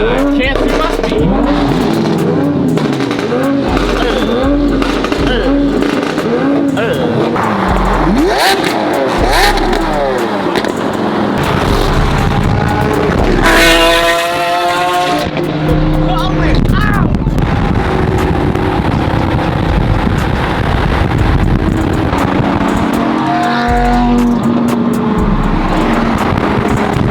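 A straight-piped Ferrari F50 hypercar driving, its loud engine droning and revving with rising and falling pitch sweeps throughout, punctuated by sharp shifts, with wind buffeting and voices talking over it.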